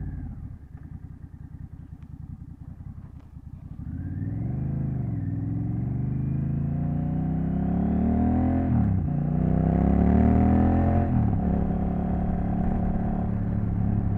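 A Honda Rebel 1100 motorcycle on a backroads test ride, the engine idling with a low rumble before revving up and pulling through rising gears, each shift marked by a brief dip, loud and close.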